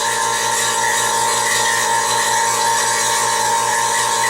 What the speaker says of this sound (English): Vacuum pump's running.